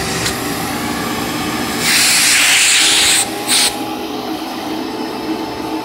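Homemade shop vacuum running for a suction check, a constant broadband roar that surges into a louder hissing rush for about a second and a half, then drops back, with a brief second surge after.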